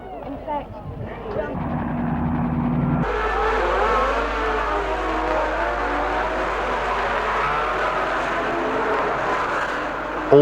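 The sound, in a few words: 1962 Belgian Grand Prix Formula 1 race cars starting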